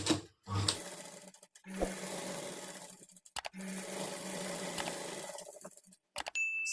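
A sewing machine stitches along the folded inner edge of a princess-cut blouse waistband in several separate runs of whirring, each broken by short pauses, close and fairly quiet.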